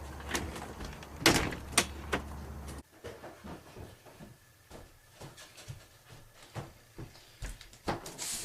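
Door sounds in a short film: a few sharp knocks or bumps and a sliding, rattling movement, moderately close, with a background hum that cuts out partway through.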